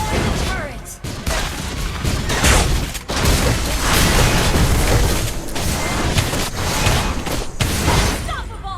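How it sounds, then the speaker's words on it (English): Explosive booms and crashes as a turret is destroyed in the Mobile Legends game, set in a loud, continuous battle mix with an announcer-style voice and game effects throughout. "You destroy the turret."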